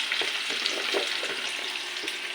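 Squash, eggplant and okra fry in hot oil with a constant, dense sizzle and soft crackle. Faint stirring bumps sit underneath, with no talking.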